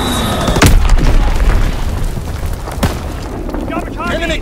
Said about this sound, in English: Blitz explosion on the way!